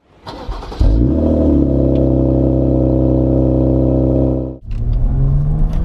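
A 2018 Alpina B4 S engine drones steadily and loudly under load for several seconds, a deep harmonic hum holding pitch, then briefly dips before picking up again with a rising note.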